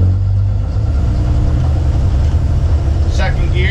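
A Dodge Ram Cummins diesel truck with a swapped 47RE/48RE automatic transmission pulls away from a stop, a loud, low steady engine drone rising slightly, with someone talking over it.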